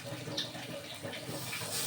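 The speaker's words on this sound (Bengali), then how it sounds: "একটু জল দিয়ে নিলাম" Water poured into a dish of patol dorma as it cooks: a brief, soft splash and hiss of liquid filling the pan, close by and steady, with no talking.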